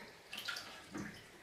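Water splashes and gurgles faintly as a siphon tube is submerged and filled in a turtle tank, two brief soft bursts close by.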